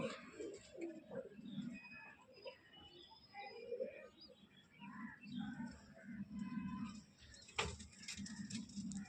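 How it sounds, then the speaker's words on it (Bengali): Small pigeons cooing at close range, soft repeated low coos in a rolling rhythm, with faint chirps and a brief clatter near the end. "খুব ছোট ছোট পায়রা"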